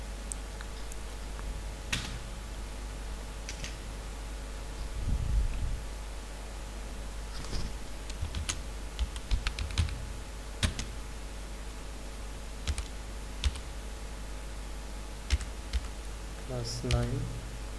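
A computer keyboard is typed on in sparse, soft clicks and taps over a low steady hum, with a voice speaking intermittently.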